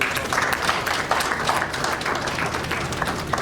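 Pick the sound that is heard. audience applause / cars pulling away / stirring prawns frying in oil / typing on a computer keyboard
audience applause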